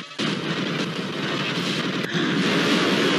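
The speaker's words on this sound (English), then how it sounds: "It's devastating anytime a train hits a car." Train striking a car, a dense loud rumbling crash with clattering noise that runs throughout, with a brief sharp jolt near the middle.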